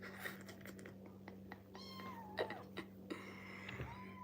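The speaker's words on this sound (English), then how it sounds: "My bold cat." A cat gives several short, close meows and chirps over a low steady hum, with faint clicks and rustling between the calls.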